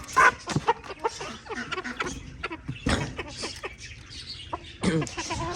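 Aseel and desi chickens cluck and squawk close by in short irregular bursts while being fed grain, with scattered pecking and scratching sounds and a possible dog bark mixed in.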